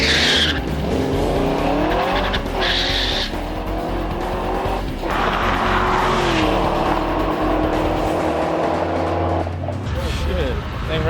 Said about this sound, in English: I got to do a longer burnout, so it spun way too much when I took off